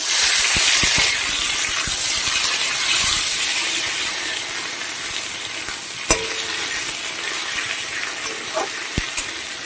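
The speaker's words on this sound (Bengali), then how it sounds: "এবার আমি যে 3-4 টুকরো টমেটো ছিল সেই টমেটোটা দেবো।" Potatoes frying in a pan as tomato pieces go in, giving a steady loud sizzle with stirring scrapes throughout and a few sharp knocks near the end.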